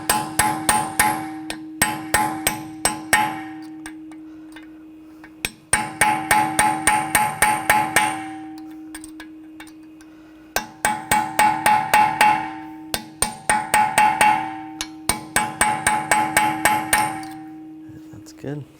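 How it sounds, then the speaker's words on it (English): Hammer blows on a punch against a peened axle nut during a front wheel bearing job on a 2013-2022 Buick Encore. Sharp metallic strikes come in four quick rhythmic bursts with short pauses between them, loud and close with no talk. "I'm just going to use a punch. Just try to bend it back a little."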